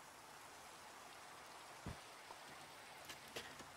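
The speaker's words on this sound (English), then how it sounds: "get rid of this rain" Steady rain in Minecraft with the All The Mods 7 modpack hisses continuously, with a few soft thumps and clicks of game sounds over the constant wash.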